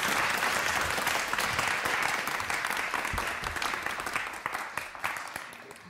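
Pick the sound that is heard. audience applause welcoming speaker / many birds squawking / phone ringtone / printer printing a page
audience applause welcoming speaker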